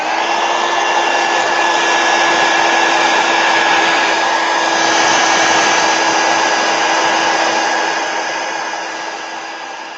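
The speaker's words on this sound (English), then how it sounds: "I'm going to hit this with a heat gun real quick." A heat gun blows over wet Kuretake watercolor paint, a loud, steady whooshing roar with a constant motor whine that holds for several seconds and then eases slightly.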